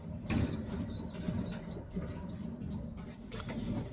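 Racing pigeons in a loft give repeated soft cooing calls over a steady, noisy background, with a faint rustle of wings, close but quiet, and no one speaking.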